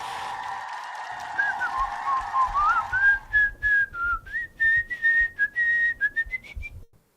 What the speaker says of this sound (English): What am I doing? Just whistling Dixie?